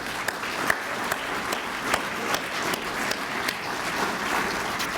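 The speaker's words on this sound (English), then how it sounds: "We can give them applause too," An audience at a Citizen of the Year awards ceremony claps steadily and evenly, a continuous moderate round of applause with a few sharper individual claps standing out.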